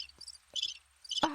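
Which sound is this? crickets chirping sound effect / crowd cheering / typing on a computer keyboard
crickets chirping sound effect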